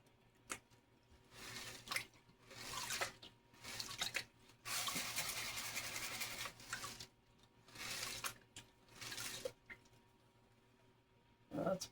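Water splashes and runs in bursts as a gold prospecting classifier is rinsed, with intermittent pouring and sloshing surges separated by short quieter gaps, close by.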